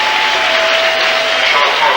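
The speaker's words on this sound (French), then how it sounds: "Stéphane De Mol, fort applaudi." Stadium crowd applauding as Anderlecht defender Stéphane De Mol leaves the pitch during a 1987-88 European Cup quarter-final against Benfica, a broad continuous wash of clapping with a commentator's voice over it.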